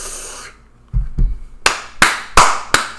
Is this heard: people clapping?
yes